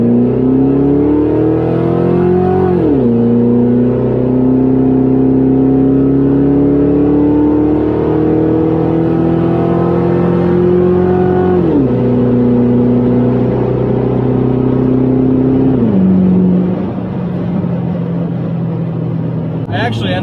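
A car accelerates hard on a timed quarter-mile run, its engine note climbing steadily through the gears with distinct drops at each upshift, loud and close throughout before easing off at the end.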